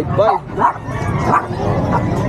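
A Jack Russell terrier at a crowded pet market gives a few short, sharp barks and yips mixed with whimpers, heard close over a busy background of chatter.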